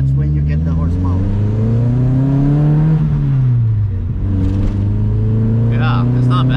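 A carbureted engine in a 1977 Mitsubishi Colt Lancer, a rally-bred car, revs loudly and close up, its pitch climbing, briefly dipping, then holding steady.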